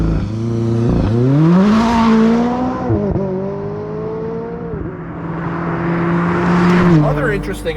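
A McLaren 620R race car pulls away, its engine revving up through the gears in rising, strained sweeps, dropping at each shift and climbing again, loud and close throughout with a brief lull near the end.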